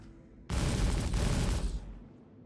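Panther guns on a Crusader MSR ship in Star Citizen open up in a dense, loud burst of rapid fire lasting about a second, starting abruptly and then dying away.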